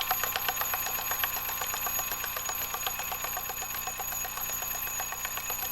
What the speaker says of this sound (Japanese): ベルの音が、だんだん聞こえなくなってきた